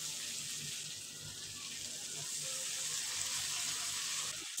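Potatoes and fried prawns go into a pan of cooked-down spice paste, giving a steady, soft sizzling hiss that holds evenly throughout.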